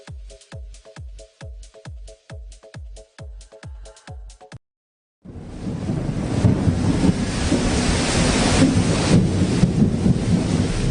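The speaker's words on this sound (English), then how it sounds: "The rains have started." Heavy rain pours down in a steady, loud roar that starts abruptly after a short run of regular, evenly spaced knocks; no clear thunder stands out.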